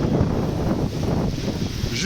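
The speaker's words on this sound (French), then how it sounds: "Il y a un petit peu de vent," A light autumn wind gusts steadily around the tallest tower in Utrecht, a dense, rumbling low roar buffeting the microphone throughout, with faint voices underneath.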